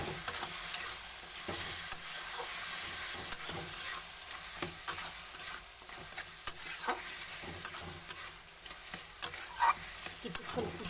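Fried fish scales tipped into a simmering pumpkin stew, with a soft continuous sizzle and bubbling broken by repeated scraping and clinking of a spoon against the pot, fairly quiet and close, with no voices.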